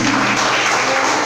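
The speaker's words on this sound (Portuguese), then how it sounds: "Dê uma linda salva de palmas para Jesus, bem forte, para Jesus." A church congregation at a deliverance service breaks into loud, sustained applause, many hands clapping in a thick, continuous roar with a faint low hum beneath.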